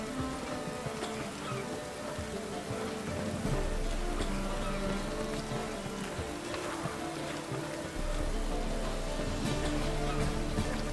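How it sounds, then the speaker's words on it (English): Rain from The Witcher 3 video game falling in a steady hiss with pattering drops, continuous and moderately loud, with game music or ambience beneath and low thuds partway through. "Rain again. Damn mages."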